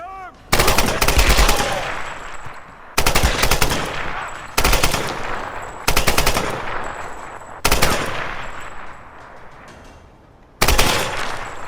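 Automatic gunfire in the Tomb Raider video game, rapid loud bursts repeating five or six times with brief gaps between, each burst crackling and trailing off as it echoes.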